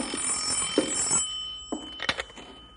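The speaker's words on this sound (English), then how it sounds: "You want me to get the phone, Bill?" A telephone rings in a radio drama, with bursts of bright ringing separated by short pauses; the rings are fairly close and clear, with no talking over them.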